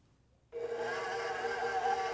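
A stand mixer fitted with a paddle attachment starts up on low speed to mix pie dough of flour, cold butter and shortening, switching on abruptly from near silence into a steady, close motor whir.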